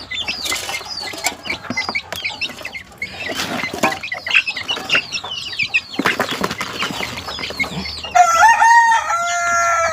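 Hens cluck and squawk amid flapping wings, then a rooster crows loudly near the end, all close and lively without any talking.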